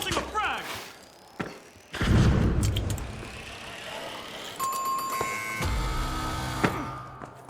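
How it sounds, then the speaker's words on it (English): A frag grenade thrown and exploding in an online shooter game, with a heavy thud and booming blast followed by rumbling debris, then layered game effects and chiming interface tones. "Tossing a frag."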